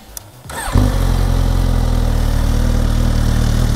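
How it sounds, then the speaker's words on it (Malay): A 2022 Suzuki GSX-S1000GT motorcycle's 999cc inline-four engine cranks briefly, then catches and settles into a loud, steady idle with a low throbbing rumble, recorded up close. "Sebelum tu saya nak korang dengar dulu bunyi enjin dia."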